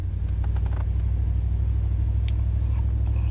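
A Dodge Dakota truck running on wood gasification climbs a mountain road, its engine giving a steady, loud low rumble under load throughout, with no talk.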